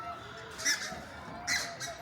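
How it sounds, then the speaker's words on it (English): Geese and swans at Martin Mere call as they fly over, two or three faint, distant honking squawks spaced a moment apart against quiet background. "It's like swans actually flying over."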